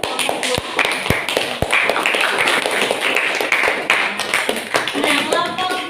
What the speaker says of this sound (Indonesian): Kelompok 3 beri tepuk tangan dulu.